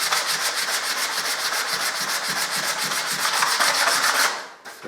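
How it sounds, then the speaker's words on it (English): P180 sandpaper is rubbed by hand over a knot in wood with quick, regular back-and-forth strokes, a close, steady rasping scratch that stops abruptly at the end. "Now, just give the area a light sand"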